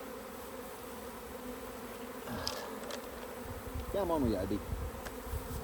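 Honeybees hum steadily around an opened hive as its insulation is put back on, a soft continuous buzz with a closer bee passing by and a few words spoken over it.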